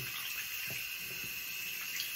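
Cold water runs from a sink tap, a continuous, even hiss and gush at close range with no talking.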